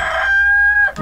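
A chicken in Resident Evil 4 lets out a single loud, close squawking cluck with a sustained tonal middle, lasting about a second.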